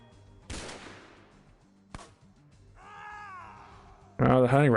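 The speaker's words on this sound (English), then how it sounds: "Oh, the hunting rifle's putting in work" Hunting rifle shots in the X-Com Files game, two sharp cracks early on with a decaying tail, set against a looping game soundtrack, with a loud burst of game sound at the end.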